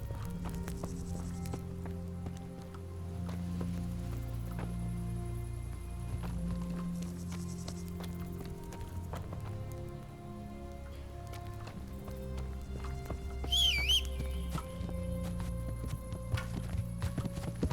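A horse's hooves clip-clop at a steady walking rhythm in Kingdom Come: Deliverance, clear and close, over a soft background of rain, with a brief whinny-like sound partway through.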